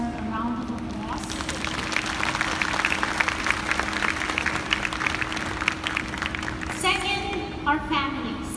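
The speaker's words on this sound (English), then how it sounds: "I believe they all deserve a round of applause" Steady applause from the audience at a university graduate school investiture ceremony, honoring the professors, sustained for several seconds with a low hum beneath and a voice coming in near the end.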